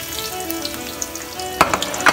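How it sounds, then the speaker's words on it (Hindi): Onions frying in hot oil in a home kitchen pan, a steady close crackling sizzle with a couple of sharper clatters of stirring near the end, no talk. "ऑयल गरम हो चुका है, प्याज डालें"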